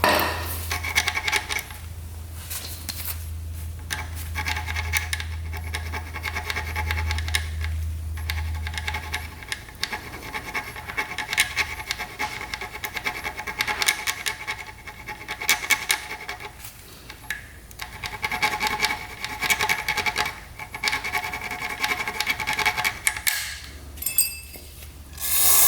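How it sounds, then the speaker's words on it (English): Motorcycle ignition points are scraped clean with steady close metallic scratching and rubbing and occasional small clinks, running almost continuously without speech. "All right, points are all cleaned off."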